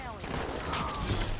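Shotgun blasts in the Halo video game, a burst of sharp gunfire reports over busy game sound, with a voice faintly present.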